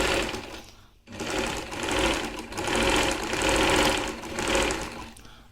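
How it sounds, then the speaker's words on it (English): A sewing machine runs a straight stitch along the edge of fabric, giving an extra finishing to a pleated yoke joined to a pardi; steady close motor whirring in three long bursts with a brief pause near the start, no talk. "just put it again on a normal machine and run a normal machine like this"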